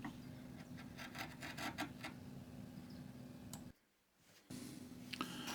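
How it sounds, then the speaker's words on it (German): A freshly sharpened blade slices through end grain oak without much pressure, giving faint rasping, rubbing strokes in a quiet workshop, a brief pause of near silence, then a few more close scraping cuts. "hier in einem schönen Stück Eiche, Hirnholz, lässt sich ohne viel Druck schneiden"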